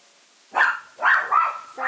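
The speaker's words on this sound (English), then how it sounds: "my dog is like that" A dog barks three or four times in quick succession, loud and close, the sharp yaps coming in a tight cluster with no voices.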